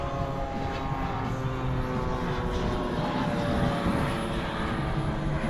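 A radio-controlled model P-40 Warhawk-type airplane with a DA 50 gas engine drones as it comes in to land, a continuous buzzing propeller hum in open air.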